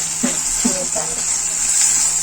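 Tomato frying in oil in a home kitchen pan, giving a steady bright sizzle throughout with a few soft stirring clinks near the start.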